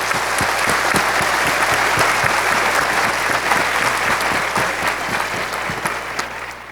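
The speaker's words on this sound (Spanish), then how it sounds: "quiero que se den un aplauso por esa capacidad de escucha" An auditorium audience at an event on popular education in Quito breaks into loud, sustained applause, dense clapping with some sharper individual claps standing out, holding steady for nearly seven seconds before easing slightly at the end.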